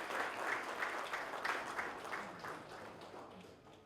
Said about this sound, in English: can we have huge round of applause, please, for these smartphones.